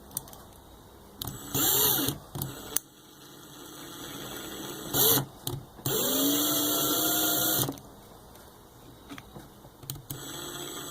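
A handheld power drill works through rivets on a restoration job, whining in several bursts of a second or two, with a longer run near the middle, separated by quieter pauses of shop background.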